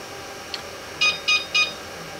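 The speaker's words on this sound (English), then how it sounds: "Hear a little beep." A Cellpro Powerlab 8 battery charger gives three short, even electronic beeps in quick succession after a faint tick, clear and close against a quiet hum.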